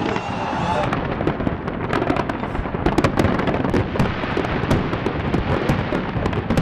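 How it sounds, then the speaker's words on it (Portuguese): New Year fireworks burst over the world's tallest building in Dubai, a loud continuous rumble of crackling booms and bangs heard at a distance, with crowd noise mixed underneath. "Em Dubai, turistas conferiram a queima de fogos no prédio mais alto do mundo."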